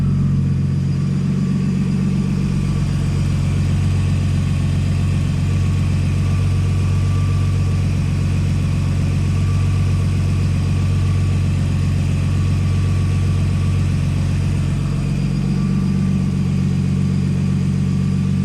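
A Nissan S13 with an RB20DET engine idles steadily and loudly up close with a deep, continuous rumble and faint higher whine, unchanged for the whole stretch and with no voices.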